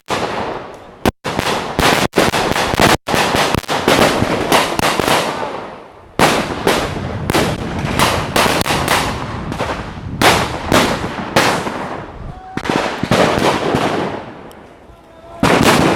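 Rapid, loud bursts of blank gunfire from D-Day reenactors playing French partisans crackle in dense volleys with brief pauses, like rifles and automatic weapons firing repeatedly nearby.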